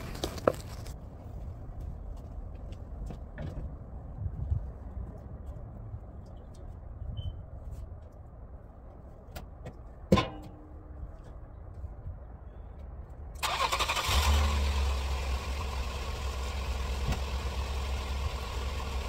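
A car engine idles low and steady after an engine wash, with a few sharp clicks and knocks, then a louder broadband hiss or rev rises in the final seconds.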